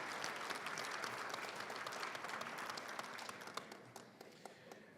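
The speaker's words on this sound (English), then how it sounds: "Big round of applause for the HSS, HND, NUC grads," Applause from a graduation ceremony audience for healthcare support graduates, a dense, fairly faint wash of clapping that thins and fades toward the end.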